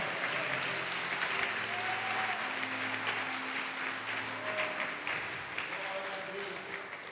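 A church congregation applauds in praise, a continuous rush of clapping from many people with voices calling out over it and sustained musical tones underneath, moderately loud throughout.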